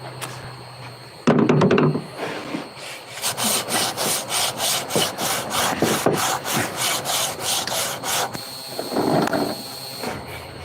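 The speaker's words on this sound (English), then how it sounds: "Work that heavy sanding block in it." Rhythmic scraping strokes of a sanding block rubbing on wood, steady back-and-forth passes, close and loud, with a few knocks.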